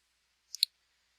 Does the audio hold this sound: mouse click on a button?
yes